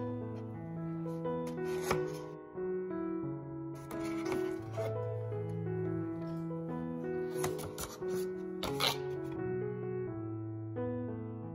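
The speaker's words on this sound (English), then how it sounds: "open up your paper and cut along the crease lines on the edges like so" Scissors cutting paper along crease lines, a series of crisp snipping and rustling bursts at close range, with soft music playing underneath.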